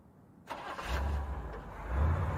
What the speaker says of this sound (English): Then a car starting.